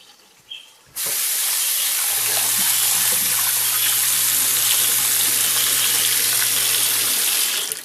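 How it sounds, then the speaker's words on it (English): A faucet turns on and hot tap water gushes steadily into a pot, a loud continuous hiss with a low filling tone, then shuts off. "Put it in, and then I'm going to fill this up with hot water."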